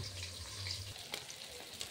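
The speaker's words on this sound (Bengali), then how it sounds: "মাছ ভাজা হচ্ছে" Fish frying in a pan gives a soft, continuous sizzle and crackle, fairly faint and steady, with a few small pops and a low hum in the background.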